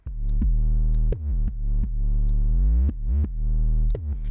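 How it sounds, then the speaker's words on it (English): Soloed 808 bass made with the Sublab synth plugin for a K-pop boy group beat: deep, booming sustained notes with sliding pitch glides, retriggered in a syncopated pattern, loud and alone. "The 808 part sounds like this when it's soloed."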